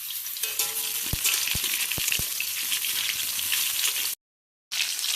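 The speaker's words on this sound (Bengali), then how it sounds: "আলু চিকেনের ঝোল বানানোর জন্য আমরা প্রথমেই আলুগুলো ভেজে নেব ভালোভাবে।" Potatoes fry vigorously in hot oil for a chicken-and-potato curry, a loud, close, continuous sizzle with a few sharp knocks from a spoon or pan, broken by a brief silent gap before the frying resumes.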